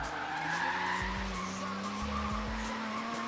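In Forza Horizon 3, a tuned Datsun 240Z with 290 horsepower slides sideways, its tires screeching in long, continuous skids over a rising engine drone, with brief gear-change dips, loud and close throughout.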